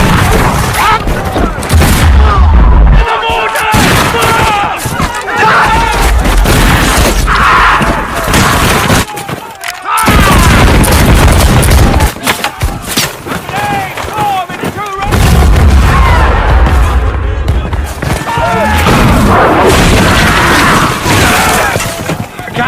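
Heavy pirate film battle sounds fill the scene: rapid volleys of gunfire mixed with booming cannon blasts, loud and continuous, with shouting voices woven through.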